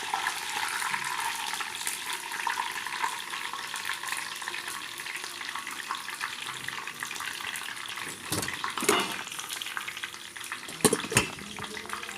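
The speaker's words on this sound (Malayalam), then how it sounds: "കറിവേപ്പില നന്നായിട്ട് ഫ്രൈ ആയി എടുത്തു." Curry leaves frying in hot oil while making Indian mixture snack, a dense continuous sizzle and crackle, close and steady, with a couple of stirring clinks late on.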